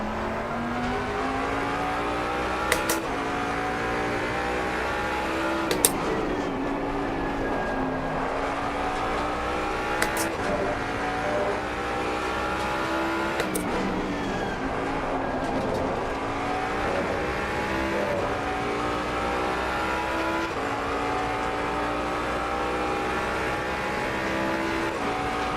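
Race car engines in Assetto Corsa Competizione, with a Lamborghini running just ahead, a loud continuous engine drone that rises and falls through gear changes, with sharp shift clicks every few seconds and no talk.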